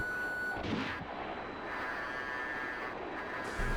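A Sidewinder missile fired at an F-16 in the DCS flight simulator, heard as a sharp launch burst over a steady jet engine roar, with a second surge at the end.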